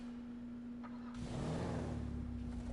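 An Invetero Coquette in the GTA video game idles and then revs up as the engine note rises and swells, loud and close, with a steady tone running underneath and no speech.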